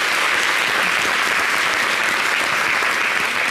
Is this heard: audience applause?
yes